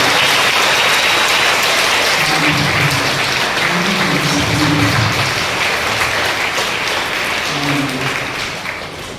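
A church congregation claps heartily in thanks to God, loud dense applause that holds steady and then slowly fades toward the end, with no speech over it.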